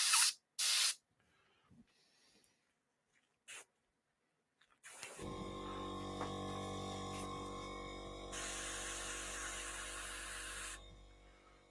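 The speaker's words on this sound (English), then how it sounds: "You're just spraying paint." An airbrush sprays thinned paint onto a model kit: a few short hissing test bursts and clicks, then a long continuous close hiss that grows brighter midway before cutting off.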